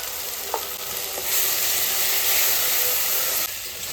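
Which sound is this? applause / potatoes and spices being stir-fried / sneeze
potatoes and spices being stir-fried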